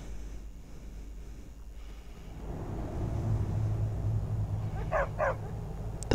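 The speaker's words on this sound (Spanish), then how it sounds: "Están los dos perros acá." Two dogs give a couple of quick, moderately distant barks near the end, after a stretch of low, rumbling background noise.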